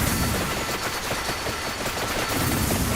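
Dense, continuous weapon fire from Vampire Survivors, a steady loud barrage of rapid shots with no pauses and no voices.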